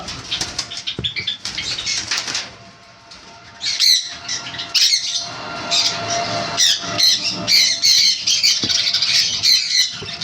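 Semi-adult sun conure parrots squawk loudly and repeatedly at close range, harsh shrill calls mixed with wing flapping and rustling throughout.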